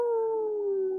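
A person imitates a wolf's howl in one long, sustained, slowly falling tone, loud and close, with no talk over it.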